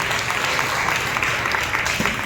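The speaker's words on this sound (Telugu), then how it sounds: "బిగ్గరగా చప్పట్లు పెట్టి ప్రభువును స్తుతించాడు బిగ్గరగా" A church congregation clapping loudly in praise, a dense, continuous roar of many hands close and loud throughout.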